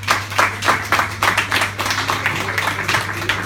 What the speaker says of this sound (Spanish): demos un aplauso bravo por la intervención de Hugo de Ballesteros.